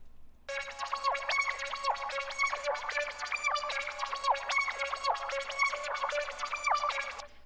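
The Times lead from Sunboy's Anti-Hero Serum bank plays a quick, bright synth melody of rapid plucky notes with pitch glides, moderately quiet and alone, looping for several seconds.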